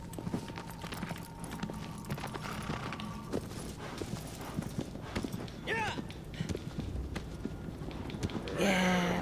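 Rhythmic clip-clop of horse hooves galloping in Shadow of the Colossus, steady and fairly close throughout, with people talking over it and a brief whinny-like burst near the end.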